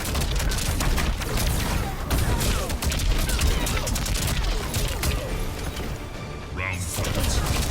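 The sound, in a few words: air support strike in video game Mortal Kombat 11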